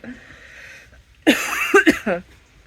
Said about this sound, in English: Still coughing though.